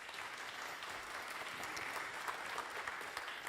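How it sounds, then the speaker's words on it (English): An audience claps steadily as innovation manager David Traclet from Hartwall is welcomed on stage: dense, even applause that stays close and fairly loud without a break, with no voices over it. "Applause."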